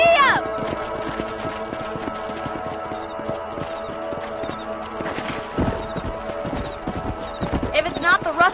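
Hooves of a horse ridden in the Red Dead Redemption western video game clip-clop in a steady galloping rhythm, fairly close and clear, with a whinny near the start and end and game sounds layered around it.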